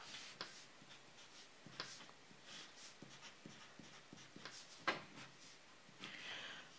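A pen draws an op-amp circuit diagram on paper, soft scratchy strokes and light taps in an irregular, faint rhythm close by.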